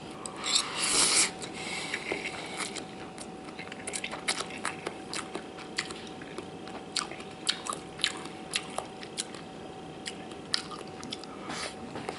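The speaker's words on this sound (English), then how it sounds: "Now I'm gonna try eating it with some of the green onions, some of the cheese, tofu" Someone eats Korean Shin Ramen with green onions, cheese and tofu, giving close, crisp bites and soft chewing with scattered clicks and slurpy squishes at a quiet level.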